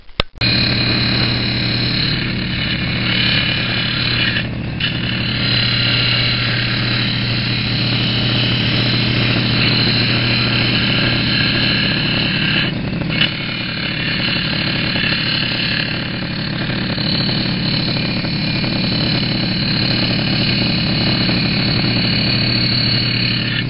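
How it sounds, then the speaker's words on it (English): A belt sander shapes a homemade wooden crankbait lure, giving a loud, steady, unbroken drone that runs close and alone for over twenty seconds with only a couple of slight dips. "now I'm going to make the shape better with the belt sander"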